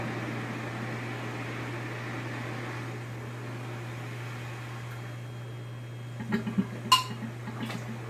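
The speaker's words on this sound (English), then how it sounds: "Hear that pop? That's the vacuum pulling the lid down and sealing it on that one." A quiet room hum with a low steady drone, then a few small sharp pops and clinks near the end, like a lid snapping down.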